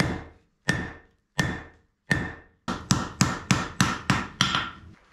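Hammer blows on a medium carbon steel bar being forged into a flat bar, starting with four evenly spaced ringing strikes, then speeding into a quicker run of about seven sharp metallic hits, loud and close with no talk.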